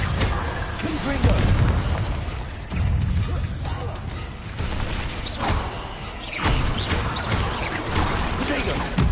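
Repeated booming blasts from the Confringo fire spell in Hogwarts Legacy, heavy low rumbling impacts recurring every couple of seconds amid dense game combat noise.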